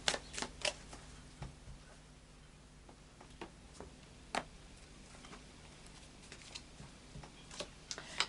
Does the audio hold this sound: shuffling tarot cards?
yes